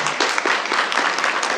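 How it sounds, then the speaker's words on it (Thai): Audience applause at a business networking chapter meeting, a dense burst of many hands clapping together, loud and close, holding steady for over a second with no voice on top. "ขอเสียงปรบมือให้พี่หนึ่งด้วยนะครับ"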